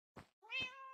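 A Minecraft cat meows, a short soft chirp followed by a longer, clear tonal mew, close and alone.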